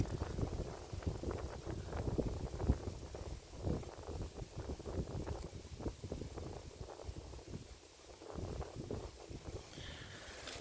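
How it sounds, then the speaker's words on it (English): Strong wind buffets a microphone outdoors in the woods, a continuous rough, rumbling roar with uneven gusts and no clear pauses. "The wind's blowing so hard, probably be some wind noise"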